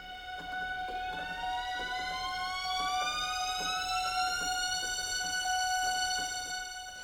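An orchestral riser from the Orchestral Tools Arkhis library, with MIDI-controlled pitch, sweeps steadily upward as sustained tones glide higher over about seven seconds, loud and continuous with faint pulsing underneath.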